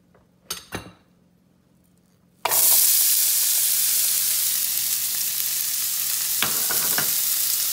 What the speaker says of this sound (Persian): حالا تو همون ماهیتابه ای که داشتم مقداری روغن میریزم، پیازم رو سرخ میکنم